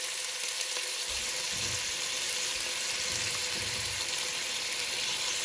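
Vegetables for sambar, including drumstick, brinjal and tomato, fry in a pan with a steady, close sizzle and occasional low stirring bumps.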